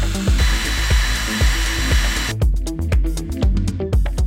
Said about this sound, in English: drill these four holes out and then a big hole for the main cable